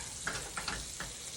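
Vegetables stirred in a hot sizzling pan, a continuous sizzle broken by a few quick scraping strokes across about a second and a half, close and without talk.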